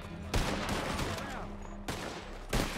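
Bursts of rapid gunfire in a Red Dead roleplay game, a dense volley cutting off abruptly, then another sharp shot near the end, loud and close with no talking.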